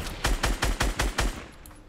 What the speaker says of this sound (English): He's going down and shoot his ramp down.